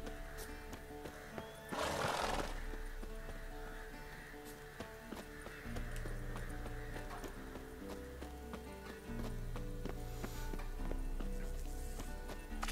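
Horse in a video game neighing loudly early on, then hooves clip-clopping in a steady running rhythm, close by over low background music.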